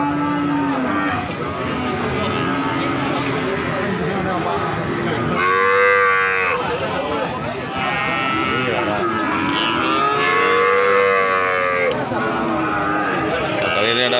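Cattle moo loudly and repeatedly nearby at a cattle market, several drawn-out lowing calls overlapping with the murmur of people talking in the background.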